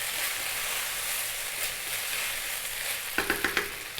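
Chicken fried rice with green onions sizzling steadily in a hot pan, then a quick run of four or five scraping stir strokes near the end, close and continuous with no speech.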